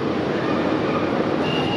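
Wide, busy train platform at Munich central station, a steady dense rumble of rail and station noise filling the space with a faint high whine near the end.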